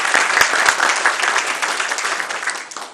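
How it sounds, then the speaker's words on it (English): An audience at a school board meeting gives a loud, sustained round of applause, dense clapping filling the room throughout with a few sharper claps standing out. "give them a round of applause as well"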